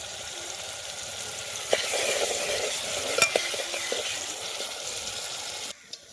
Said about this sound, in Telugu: ఈ విధంగా బాగా ఫ్రై చేసుకొని మనం చికెన్ అయితే వేసేసుకుందాం